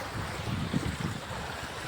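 Floodwater from heavy rain rushing across an overflowing road between two villages, a steady roaring wash with wind buffeting the microphone and no voices.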